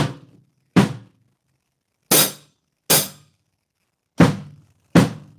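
A drum kit plays a flutter lick, a loud right hand over a quiet bass drum. Six sharp, isolated hits land at uneven intervals, each one ringing briefly before a silent gap.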